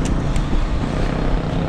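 A motorized tricycle ride in the Philippines, with a continuous rumbling engine drone and road noise close by, steady and loud throughout with no clear talking.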